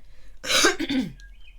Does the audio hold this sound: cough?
yes